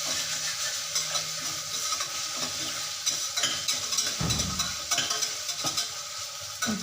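Onion and tomato masala with cashew nuts stirred in a pan for prawn biryani, a steady sizzle and frying hiss with repeated scraping stir strokes, close and continuous throughout.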